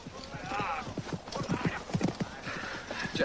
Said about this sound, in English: Get those horses in the trees, boys